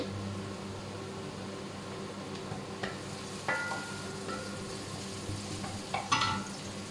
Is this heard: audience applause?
no